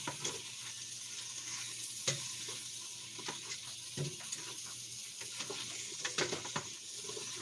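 A spoon stirs thick tomato paste in a hot pot, making a continuous soft sizzle broken by scraping strokes and occasional sharper knocks against the pot, close and steady with no talking.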